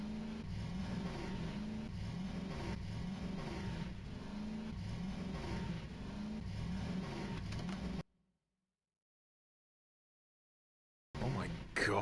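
A car passing outside drones and revs steadily with a voice mixed in, then cuts to silence before a brief burst of noise returns.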